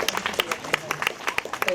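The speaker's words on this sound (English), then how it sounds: "a big round of applause to the people who deserve" Brief burst of clapping from an audience at a committee event, a scatter of sharp claps at moderate distance with a voice underneath.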